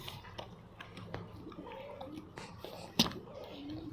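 A pony chews a piece of carrot close by, with a run of soft crunching bites and one sharp, louder crunch near the end over quiet background noise.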